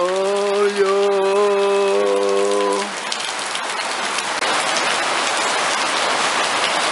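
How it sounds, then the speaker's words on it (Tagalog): Heavy rain falls steadily in Araullo with a dense, loud hiss, and a sustained tonal hum is briefly heard over it before fading out early on. "Lalong lumakas ang ulan, pero maliwanag na."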